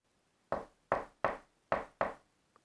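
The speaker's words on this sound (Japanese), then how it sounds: "ドアを叩く音がしました。" Five sharp knocks on a door at night, spaced roughly evenly and heard close and alone, followed by a faint tap.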